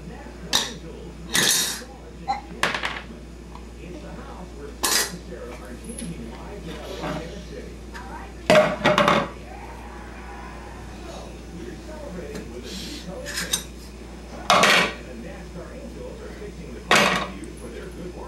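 A utensil stirs a pot of octopus cooking on a home stove, making sharp, scattered clinks and knocks against the metal about every few seconds over a quiet kitchen background.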